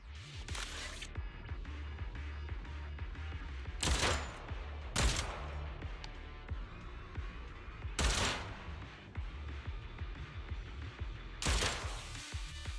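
Rapid gunfire in a video game comes in four or five short, sharp bursts spaced several seconds apart, with a quieter mechanical game ambience humming between them.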